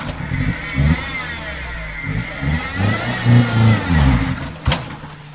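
A 4x4 vehicle straining along a rough, rutted dirt road, its engine rising and falling in loud labored surges with a sharp knock near the end.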